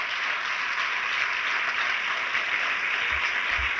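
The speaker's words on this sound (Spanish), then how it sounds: "Démosle un aplauso al Señor Jesús." Congregation applauding during a church sermon, a continuous, even wash of many hands clapping together at moderate volume, with no voices rising above it.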